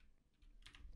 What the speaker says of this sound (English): I'm just gonna go ahead and start typing here